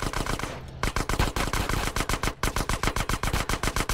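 Rapid automatic gunfire in GTA San Andreas, dense repeated shots in quick bursts with a brief pause, loud and close.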